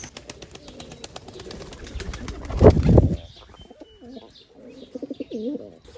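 White Bombay pigeons on a farm, including a male, coo in soft, low, throaty rolls. A sudden loud flutter of flapping wings breaks in midway, and several short cooing bursts follow close by.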